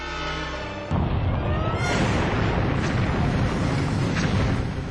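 Rocket explosion: a sudden massive roaring blast that hits after a brief lead-in tone and then rumbles on, loud and broad, with no voices.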